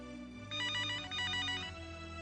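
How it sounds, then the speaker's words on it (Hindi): A telephone rings in a scene of the Hindi TV drama Astitva Ek Prem Kahani: a bright electronic trill in two quick bursts, steady and alone over a faint background hum. "सिमरन के पापा का फोन है"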